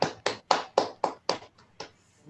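Scattered clapping from an online audience thanking a speaker, about eight separate claps with small gaps between them, fading toward the end, with no talking.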